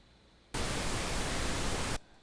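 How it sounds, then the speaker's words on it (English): Wwise noise generator plugin outputs a loud, flat burst of broadband hiss lasting about a second and a half. It starts and stops abruptly against a faint background. "Let's play the noise generator and see what happens"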